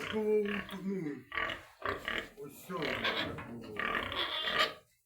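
A pig grunts and snorts repeatedly at close range in rough, uneven bursts. A few short squeals mix in, with no clear talking.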